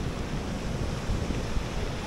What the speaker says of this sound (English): there is also waves coming all the way up here and the odd time going back down along